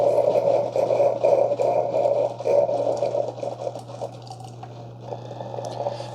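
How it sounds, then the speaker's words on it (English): A Keurig K-Cafe Essentials brewer pushes hot descaling solution and water through the machine, giving a steady gurgling, sputtering liquid flow over a constant low motor hum. "That's going to brew about 14 ounces of that hot descaling solution and water through the machine."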